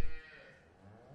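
Dairy cows waiting in the collecting pen of an Isle of Man farm with automatic milking, a low moo sounding at moderate distance after a brief knock, with a faint farm background.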